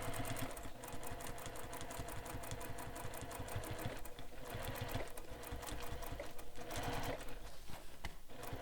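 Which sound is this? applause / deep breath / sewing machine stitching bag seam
sewing machine stitching bag seam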